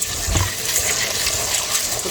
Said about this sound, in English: So all I have to do is just put some water